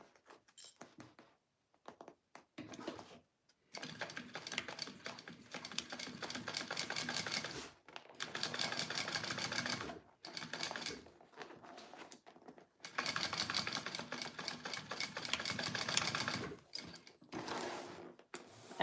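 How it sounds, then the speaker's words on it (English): Sewing machine stitching a line of seam on a fabric purse, running in long steady bursts of rapid mechanical clatter separated by short pauses, close and alone. "I'm just doing one more line of stitching right by that one."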